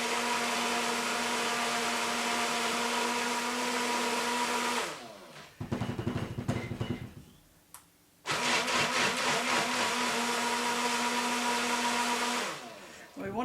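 A blender mixes carrot puree for soap, its motor whirring in a loud, steady drone that stops and restarts a few times with choppy bursts in between, close up, with no talking.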